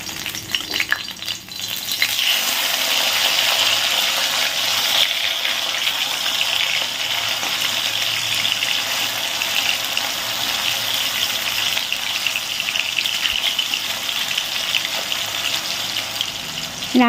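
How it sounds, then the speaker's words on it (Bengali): Tap water runs in a steady, hissing stream while dishes are washed in a home kitchen, continuing loudly and evenly throughout with no voices. "রান্না করতে করতে যদি একটা দুটো বাসন মেজে নেওয়া যায়"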